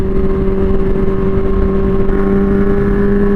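A Honda CB400 Four motorcycle engine holds a steady, loud, close drone with a strong tonal hum, rising only slightly in pitch as the throttle is opened gradually, no voices over it.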